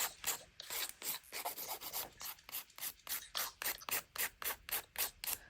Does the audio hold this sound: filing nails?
yes